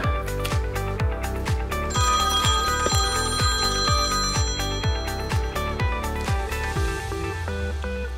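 A telephone rings steadily in a repeating electronic ring pattern, with rapid evenly spaced pulses carrying on for several seconds at moderate loudness, and nobody speaks over it.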